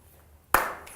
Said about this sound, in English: someone will clap instead of saying